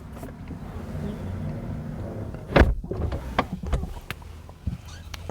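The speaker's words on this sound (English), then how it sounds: "We're going to go ahead and use the auto close on the door." A 2023 Rolls Royce Ghost Black Badge door pulls itself shut with the auto-close mechanism, giving a soft motorized whir and then a solid thud, followed by a few faint clicks inside the car.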